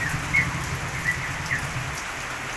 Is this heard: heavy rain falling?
yes